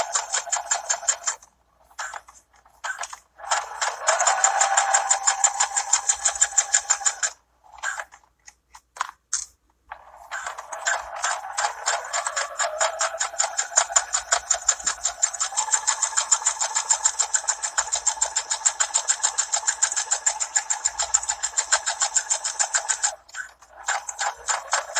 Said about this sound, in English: I'm just going to sew all the way down the length of this handle